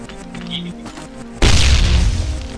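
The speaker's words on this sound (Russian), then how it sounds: "Ага, велосипед взорвал." A bicycle explodes in the video game Ring of Elysium: a sudden loud, deep blast cuts through quiet ambience, then a rumbling roar with debris that lingers and slowly fades.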